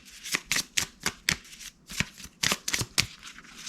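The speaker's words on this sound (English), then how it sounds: "Give it a quick shuffle here." Event cards for a World War II board game are riffled and shuffled by hand, close up, in quick bursts of crisp flapping and snapping with short pauses between them.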